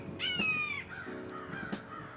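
Crows cawing near a Florida cemetery, a few loud harsh calls standing alone in open air.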